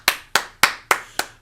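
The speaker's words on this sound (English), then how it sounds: "She was the only one clapping." A single person claps five times in an even rhythm, each clap sharp and close with a short decay and quiet between.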